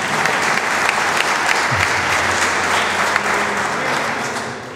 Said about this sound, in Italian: Un applauso a Pierluca